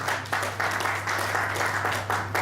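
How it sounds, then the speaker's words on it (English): At a conference, the audience gives a round of applause, heard as steady, fairly loud clapping that runs evenly throughout with no talk over it. "this is the moment to give them another round of applause"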